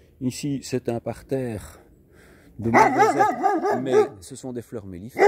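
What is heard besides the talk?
neighbour's dog barking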